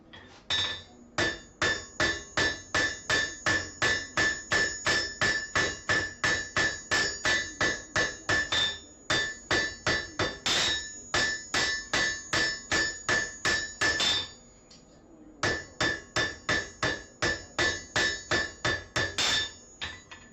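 Hand hammer on a steel bar being forged into a spatula at the anvil, a fast steady run of sharp ringing blows in long bursts with brief pauses between them.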